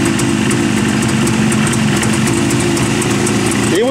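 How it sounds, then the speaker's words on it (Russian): A Jawa motorcycle engine idling just after a fully cold start, a loud close steady mechanical drone with a fast even pulse, running continuously alone until a brief rev at the very end. "Вы видели запуск, причем совершенно холодный мотоцикл"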